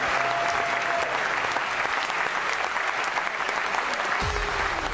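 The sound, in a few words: raucous crowd applauding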